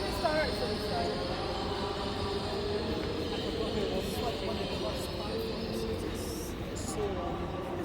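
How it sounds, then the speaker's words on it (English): A long train runs along platform 7 at a station, giving a steady rumble with whining tones. People talk close by over the rumble. "I forgot how long this train is."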